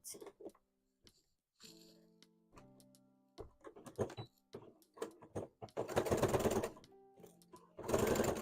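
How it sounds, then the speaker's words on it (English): A sewing machine stitches a Pokemon hat in a series of rapid mechanical bursts, short runs and longer buzzing stretches separated by pauses, close and fairly loud with occasional handling noise. "All right, let's sew up this hat."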